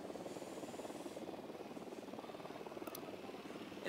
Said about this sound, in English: Drone is up.